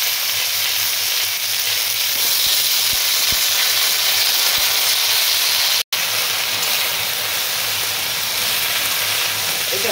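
Onion and snake gourd vegetables frying in a pan, a loud, steady sizzling hiss close up that runs continuously, with a few faint stirring knocks and one brief dropout.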